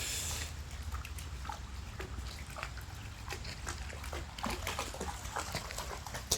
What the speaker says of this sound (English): Stop drinking the water.